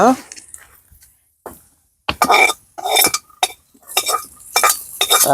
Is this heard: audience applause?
no